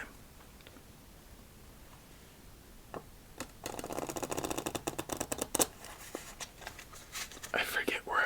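Playing cards of a pixel clown deck being shuffled up close, quick riffling bursts and soft flutters after a few isolated taps, quiet and crisp in a calm solitaire setting.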